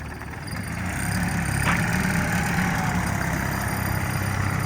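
A converted bus, jump-started with a MicroCarapat booster, starts up and settles into a steady, rumbling diesel idle that stays at an even level close by.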